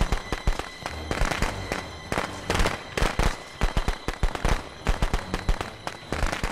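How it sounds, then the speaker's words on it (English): Video game fireworks crackle and pop in rapid, irregular bursts, a dense volley of loud sharp bangs that continues throughout. "now y'all see kind of how the fireworks worked"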